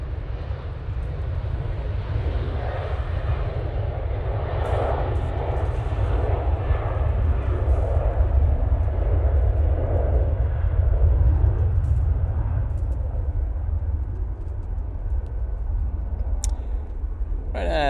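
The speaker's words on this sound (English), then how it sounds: "Ryanair 737-800 and now departing" Ryanair Boeing 737-800 departing Manchester Airport, a loud, deep, rumbling jet roar held steadily throughout, with faint voices heard now and then over it.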